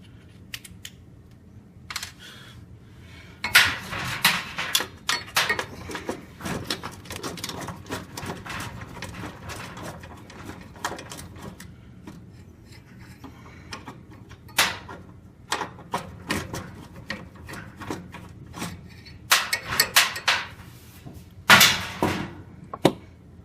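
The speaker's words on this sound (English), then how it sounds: "the top one I could just use a regular screwdriver" Screws come out of an oven ignitor under a regular hand screwdriver, with soft, irregular clicks, taps and scrapes of metal close by, quiet and sporadic with louder clusters of handling noise.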